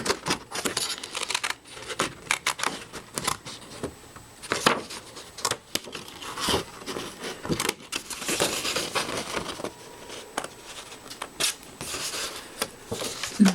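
Scissors snip through paper or card for a handmade pages tutorial, a dense run of close crisp cuts and rustling handling with short irregular pauses.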